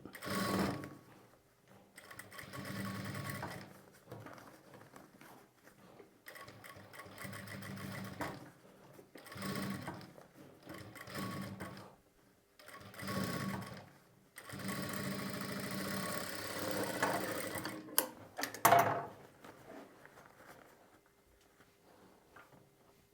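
A sewing machine stitches thread piping onto fabric for a princess-cut garment, whirring in repeated bursts of a few seconds separated by short pauses, close and moderately loud with no talking.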